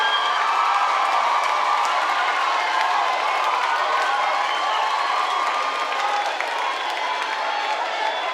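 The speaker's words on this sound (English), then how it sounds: "Let me step aside so you can enjoy the applause." Studio audience at a soca music competition show applauding and cheering after a performance, a steady bright roar of clapping, shouts and whoops sustained throughout.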